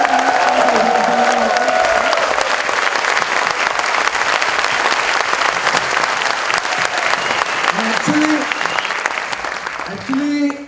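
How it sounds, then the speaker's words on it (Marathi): A large seated audience applauds the speaker at a Lakshyavedh Sohla ceremony, loud, sustained clapping filling the hall for several seconds, with a few voices rising faintly near the end as it fades. "त्यांना दाद देण्यासाठी मला असं वाटतं की 5वा टाईप्स ऑफ टाळ्या ज्या आहेत त्या दाद देण्यासाठी"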